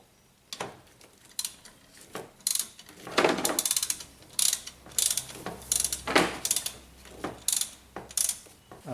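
A ratchet with a 10mm socket loosens the injection pump locking bolt on a Volvo 850 D5252T engine, making rapid, close, repeated clicking bursts with short pauses between strokes.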